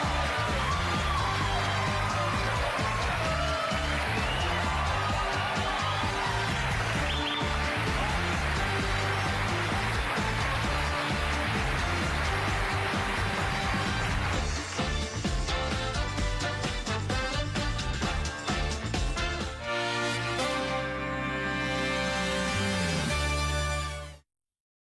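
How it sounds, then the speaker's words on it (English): A television studio audience applauds and cheers steadily over loud band music for about twenty seconds, then the sound cuts off sharply. "I'm humbled by that applause."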